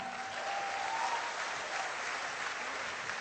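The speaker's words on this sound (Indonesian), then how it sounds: "tepuk tangan untuk mereka semua" Audience applause at an RCA ELC product event, a steady wash of clapping from a crowd that holds at an even level throughout, with no speech over it.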